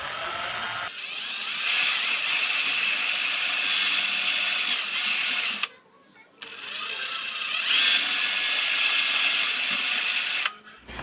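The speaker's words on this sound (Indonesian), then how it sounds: "Tinggal kita bor buat lubang" A small high-pitched power drill bores an LED hole into a miniature truck lamp housing, whining in two long sustained runs separated by a brief stop, close and loud.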